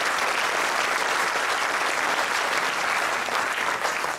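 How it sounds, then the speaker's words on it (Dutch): An audience at the 2014 Korenslag choir contest in Alblasserdam applauds in a dense, steady burst of clapping, loud and close, continuing for several seconds without talk. "Applaus voor V80."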